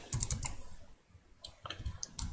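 Rapid clatter of keys on a laptop computer keyboard, close and fairly loud, in two bursts separated by a brief pause, with no voices.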